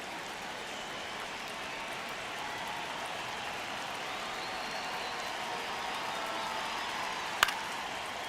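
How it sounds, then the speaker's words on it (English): Baseball crowd at an Angels–Cubs game, a steady broad roar of distant fans rumbling throughout with one brief sharp crack near the end. "you can feel this crowd waking up a bit here as the guys are starting to make some noise with their bats"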